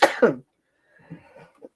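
Two sharp, close coughs in quick succession, followed after a short pause by quieter throaty sounds.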